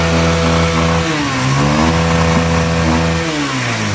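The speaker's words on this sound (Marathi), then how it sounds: "असे पहिल्या किकमध्ये गाडी कशी चालू झाली बघा" A motorbike engine, just started on the first kick after being topped up with borrowed petrol, runs loud and close, its note rising and falling through several revs before settling.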